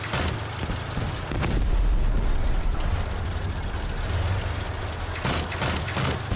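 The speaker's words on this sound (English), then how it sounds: "we're just going to be testing out the fire rates of the fortunes here" Fortune weapons firing in the vehicle combat game Crossout, heavy booming shots with a deep low-end rumble, a few sharp bursts near the start and a cluster of rapid blasts near the end over a continuous mechanical drone.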